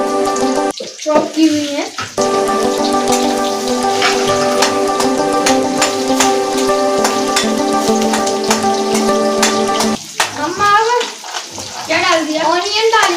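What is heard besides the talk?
green chili sizzling as it is added to a hot pan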